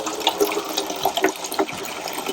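Water is poured out for a dog, a steady close splashing trickle with small irregular bursts and no voices.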